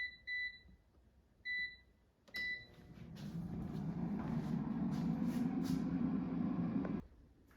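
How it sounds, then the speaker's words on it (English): An air fryer cooking frozen Korean mandu dumplings at 350 degrees Fahrenheit gives three short beeps, then starts up into a steady fan whir that holds at even volume for about five seconds before cutting off. "And now let's put the air fryer basket in the air fryer."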